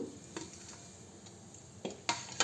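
Spoon stirring a hot roasted spice mixture for gooseberry spicy powder in a pan, with a few soft scraping clinks and light sizzling, quiet and close, no voices.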